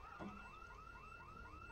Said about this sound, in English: House alarms, you just gotta love them.